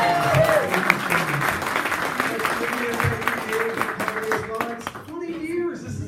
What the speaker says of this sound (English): So another hand around of applause.